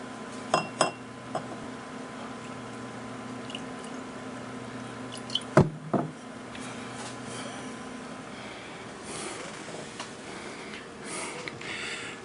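Chateau Guiraud 2007 Sauternes is poured from a bottle into a wine glass, opening with a few glassy clinks and a sharp knock, followed by a soft gurgling trickle of liquid that grows toward the end.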